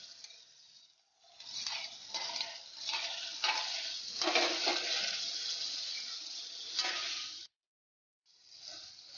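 Fried eggplant stirred into a sizzling, spiced masala in a pan for a Bengali fish curry, with steady frying hiss and scraping stirs that cut off briefly near the end.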